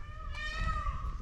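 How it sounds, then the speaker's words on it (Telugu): A peacock in the green forested hills of Ananthagiri gives a single loud, nasal, meow-like wailing call with a slight falling glide, heard clearly at middle distance. "నెమలి సౌండ్స్"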